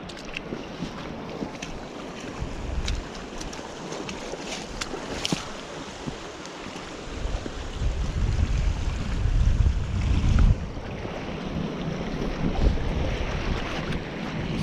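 Strong wind gusts buffet the microphone on a rocky shoreline during bass lure fishing, a constant roaring rush that swells louder for a few seconds midway, with surf washing behind it and no talking.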